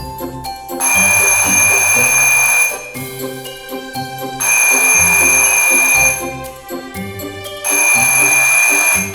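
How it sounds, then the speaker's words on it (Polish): A loud electric theatre bell rings in long sustained bursts, three rings separated by brief pauses, with a steady metallic clang. "Trzeci dzwonek to sygnał do wygaszania światła na widowni"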